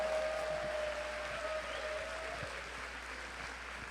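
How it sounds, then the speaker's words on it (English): Audience clapping at a robotics championship opening ceremony, a soft, distant, even wash of applause from a large hall with a faint tone lingering underneath. "clap loud for Sue so she hears it"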